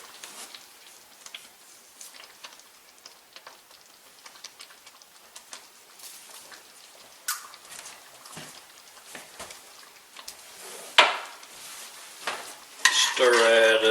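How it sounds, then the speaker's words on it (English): Homemade country-style gravy stirred in a hot pan, soft scraping and faint sizzling running quietly throughout, with a louder clatter and sizzle burst near the end. "Stir that up."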